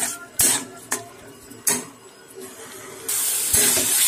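Spice paste frying in a pan for a bottle gourd and mung dal curry, with bursts of loud hissing sizzle, several sharp spoon scrapes, then a louder continuous sizzle, close by.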